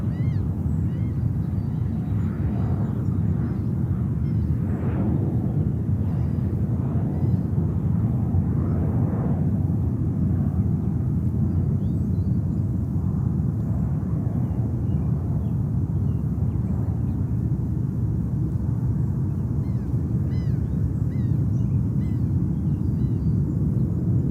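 A fixed-wing aircraft landing at JFK airport, heard as a steady, loud, deep jet roar from a distance that holds for the full length without a break.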